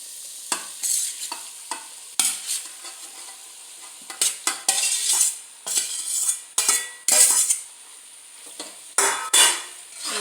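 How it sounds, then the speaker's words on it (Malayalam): Spatula scraping and stirring boiled macaroni into sizzling masala with tomato sauce in a pan, quick bursts of clattering strokes against the metal over a faint fry, close and fairly loud. "നന്നായിട്ടൊന്ന് ഇളക്കി കൊടുക്കാം"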